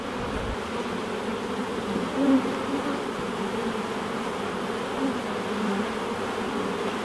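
Honey bees hum in a steady, close drone while a hive is opened for inspection, the buzzing continuous with slight swells.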